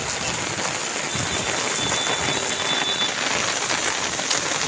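A downpour in Mankhurd during the monsoon makes a thick, steady roar of rain drumming on surfaces nearby, unbroken and loud for the whole stretch.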